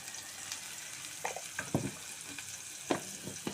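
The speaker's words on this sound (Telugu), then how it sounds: "కొంచెం ఉల్లిపాయ ముక్కలు మెత్తగా ఇంతవరకు మనం వేయించుకుందాం" Onion pieces fry with salt in a pan for drumstick tomato curry, a soft steady sizzle broken by scraping stirs and clinks of a spatula.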